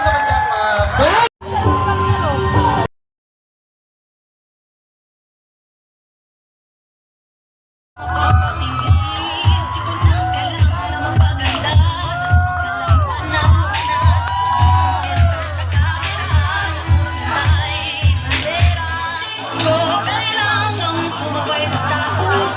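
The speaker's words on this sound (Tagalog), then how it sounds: "Palakpakan mag-isama! Sigaw!" A large audience cheers, whoops and shouts at a national founding anniversary of a Philippine rouser group, loud and sustained after a brief burst and a few seconds of silence.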